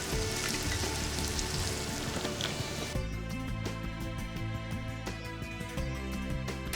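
Chopped onions and green chilies frying in a pan for Kumbakonam kothsu, a steady loud sizzle and crackle throughout, dense and close, with a fresh burst of spitting as more goes in partway.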